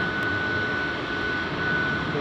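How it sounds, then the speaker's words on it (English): Two Boeing 737 jets sit parked with engines idling at Chicago O'Hare airport, a steady broadband roar with a thin constant whine running unbroken throughout, heard from a distance. "We've got one 737 parked and idling over here, and another parked and idling over there"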